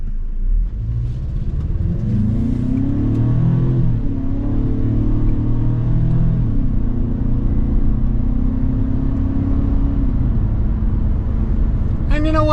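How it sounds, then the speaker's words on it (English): A 2024 Ford Bronco Sport Badlands accelerating hard in manual mode with paddle shifts, engine note rising steadily in a continuous rumble heard from inside the cabin, with a brief sharper sound at the very end. "we are going to do an acceleration test"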